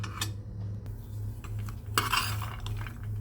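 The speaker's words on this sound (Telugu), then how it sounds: "పల్లీలు కూడా బాగా ఫ్రై అయ్యే వరకు కలుపుకోవాలి" Peanuts stirred in a pan for poha laddu, a few sharp metal clinks and scrapes of a spoon against the pan over a steady low hum, with a louder burst of rattling partway through.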